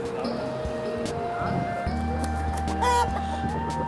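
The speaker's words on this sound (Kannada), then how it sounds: "ನೋಡ್ತಿದ್ದೀರಲ್ಲ ಇವೆಲ್ಲ ಹುಂಜ" Roosters and hens at a busy poultry and livestock market, clucking and calling close by amid steady crowd murmur, with a brief louder squawk partway through.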